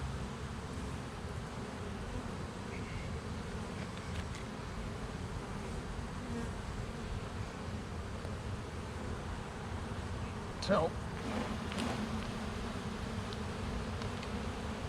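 A steady, dense honeybee buzz hums throughout around a hive, many bees droning close by, with a single brief spoken word partway through.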